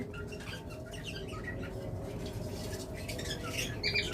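Caged pet birds kept for sale, mostly sitting inside their enclosures, give faint scattered chirps and squawks against quiet background noise, with a few sharper calls toward the end.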